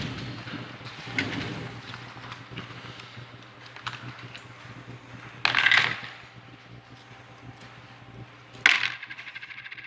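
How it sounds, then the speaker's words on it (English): Keys and loose coins are emptied from pockets at a courthouse security screening, with scattered clinks and rattles and two sharp metallic jingling bursts against a low background hum. "I just got my keys and some change."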